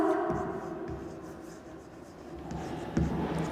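Chalk or a marker scrapes across a classroom board in short strokes, faint and close under a teacher's nearby talk.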